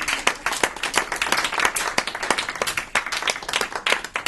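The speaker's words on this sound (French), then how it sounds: "Je pense qu'on peut l'applaudir." Audience clapping for a woman being honoured at a talk, a steady, dense spatter of handclaps with sharp individual claps standing out, sustained throughout and fairly close.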